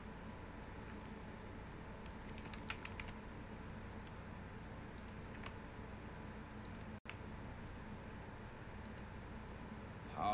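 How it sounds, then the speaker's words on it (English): Typing on a computer keyboard: scattered faint key clicks and taps over a steady hiss of background noise, quiet and close, with no talking. "So, let me type something down."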